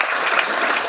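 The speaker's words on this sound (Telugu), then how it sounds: "గట్టిగా అందరూ కూడా చప్పట్లు కొట్టి అభినందించండి." Audience applause at a public event in Mangalagiri, a dense, continuous burst of clapping from a crowd, loud and steady throughout.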